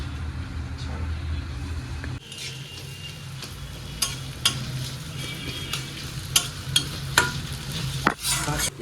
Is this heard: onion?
yes